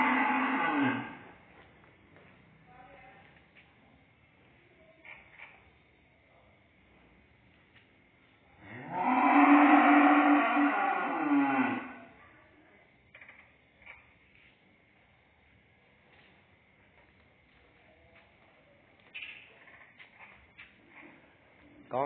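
Cattle at a Vietnamese cattle farm in Tay Ninh, muscular beef cattle, give one loud, drawn-out moo of about three seconds, with fainter farm noise and occasional talk around it.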